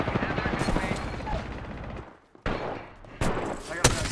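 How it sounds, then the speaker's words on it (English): Rapid bursts of game gunfire crackle close by, breaking off briefly before more sharp shots ring out. "Gunfire. And they're hitting me."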